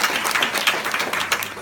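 Short stretch of audience applause in a seminar hall, a steady patter of many hands clapping at moderate loudness, with no one speaking over it.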